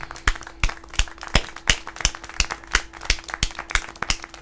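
Steady rhythmic clapping in the video game Syberia: The World Before, about three claps per second, sharp and close, continuing evenly throughout.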